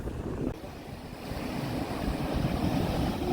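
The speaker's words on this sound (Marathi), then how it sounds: "ही बघ लाट बघ खतरनाक" Rough sea waves surge near Sindhudurg fort on the Konkan coast, a continuous roar of surf heavily mixed with wind buffeting the microphone, with no voices.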